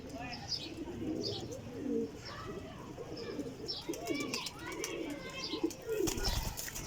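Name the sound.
pigeons cooing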